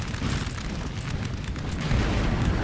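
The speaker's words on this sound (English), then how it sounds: "Artillery still going off, putting holes into this French infantry here." Continuous deep rumbling booms of artillery fire in Napoleon Total War, cannons going off during a siege battle against French infantry, dense and steady with no clear gaps between blasts.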